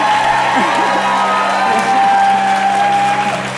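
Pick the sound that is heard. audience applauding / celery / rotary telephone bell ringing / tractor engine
audience applauding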